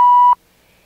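A 1977 filmstrip projector advance cue, a single clean steady beep tone lasting about a third of a second, then abrupt silence.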